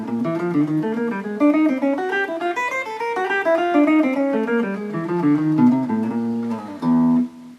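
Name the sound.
guitar finger-twister exercise played across the strings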